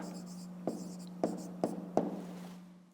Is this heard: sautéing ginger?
no